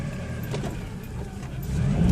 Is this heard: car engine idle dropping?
yes